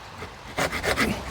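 A GTIWUNG folding hand saw cuts through wood in a few quick, close rasping strokes, each pull a short gritty scrape over a low background.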